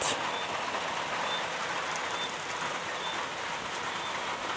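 Steady rain hisses evenly throughout in a Jamaican backyard, a dense wash of patter with no pauses and no voices.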